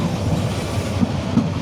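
A train rolls slowly into Chittagong station under a cloudy sky, a steady close rumble of carriages with soft rhythmic wheel clatter and a few faint squeaks.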